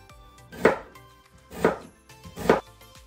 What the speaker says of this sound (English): So for the onion and green pepper, we are going to cut it to slices